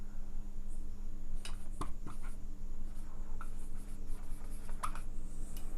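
Chalk or marker writing on a board during an English grammar lesson, heard as faint scratchy strokes and taps over a steady low room hum, with no talking.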